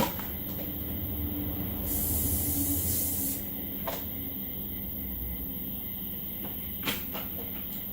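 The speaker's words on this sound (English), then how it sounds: "We've got some Coles canola oil cooking spray" A can of canola oil cooking spray hisses in a steady spray for about a second and a half, followed by a few small clicks and clatters.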